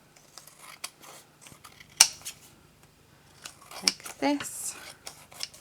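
Scissors trimming 12 by 12 scrapbooking paper, a few sharp snips and slicing cuts up close, with brief talking in between.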